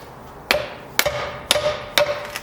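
A dead blow hammer strikes a nut on a Dana 20 transfer case from a 1966-1977 Ford Bronco, four sharp, loud, evenly spaced whacks about half a second apart, each ringing briefly.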